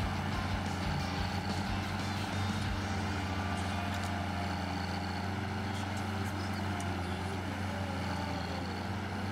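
Tractor engine in Farming Simulator 19 on the Ebsdorfer Heide map, a steady loud low drone held throughout with constant rumbling and faint higher mechanical whine, no voices.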